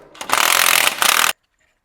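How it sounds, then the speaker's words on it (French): Impact wrench with an 18 mm socket removing a damper pulley on a 1.5 dCi engine: one loud, close, rattling burst of hammering for about a second, then abrupt silence. "clé à choc, douille de 18"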